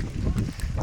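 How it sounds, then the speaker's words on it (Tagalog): Strong wind gusting at a scenic hillside viewpoint, a loud, steady rumbling buffet across the microphone for under a second, with no clear voice over it. "kakusog sa hangin diri oy"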